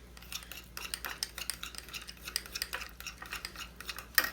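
A spoon scrapes and clinks in a pot while stirring a sauce made with hot sauce, harissa and garlic powder, giving soft repeated strokes at an even pace with no talking.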